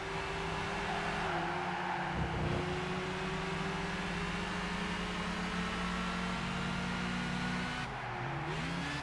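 Gran Turismo 5 race car engines hum steadily at a constant pitch, with a Peugeot 206 following close behind; the engine drone continues throughout with a brief dip near the end.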